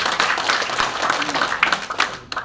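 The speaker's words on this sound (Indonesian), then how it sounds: "Mana aplaus yang meriah untuk Bapak Ibu semua" An audience applauding at an evening seminar, dense and steady clapping that fills the room and starts to thin out toward the end.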